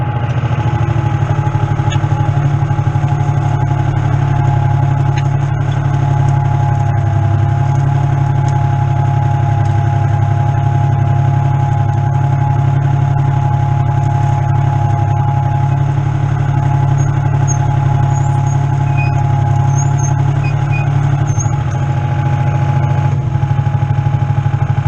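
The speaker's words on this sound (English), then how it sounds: "I can tell by the way the tractor was pulling that it was pulling hard" Tractor pulling plows hard through a field to check whether the soil is dry enough, a loud, steady, continuous low engine drone heard close up without a break.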